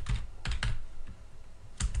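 Computer keyboard typing in short clustered bursts of keystrokes separated by pauses, close and fairly loud, with no voices.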